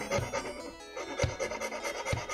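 A hand file rasps back and forth across material in steady strokes, close and moderately loud, with several distinct scraping passes and no voices.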